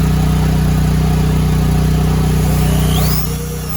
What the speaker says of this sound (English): I can get my drill stand up here and do some plumb holes through the tenons on the wind braces